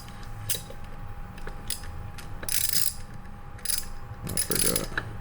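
A big Allen wrench tightens a motor mount bolt with a series of sharp, close metallic ratcheting clicks and scrapes in irregular bursts over a steady low hum.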